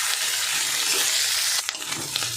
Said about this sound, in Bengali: মশলাটা দেখুন মোটামুটি ভাজা ভাজা হয়ে গেছে।